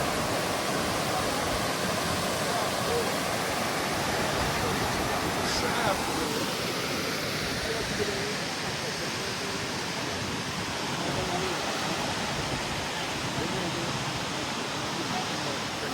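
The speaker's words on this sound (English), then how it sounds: "Dito na nagtakos yung tubig sa falls, Dan River." Dan River Falls in Jamaica pours as a steady, dense roar of falling water, broadband and unbroken for the whole stretch, close and even in level with no voices heard.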